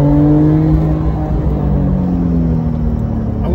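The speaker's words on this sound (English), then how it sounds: "I really like this exhaust note." A Porsche 991.2 with Kline headers, heard from inside the car on wet roads, gives a loud, continuous exhaust drone whose engine tones slide steadily as the revs change, with no talk over it.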